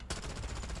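A rapid burst of automatic gunfire in the video game Modern Warfare, loud and close, with sharp repeated shots in a fast even rhythm over less than a second.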